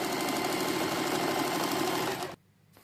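Sewing machine stitching salwar fabric, a close, steady whirring run that stops abruptly near the end.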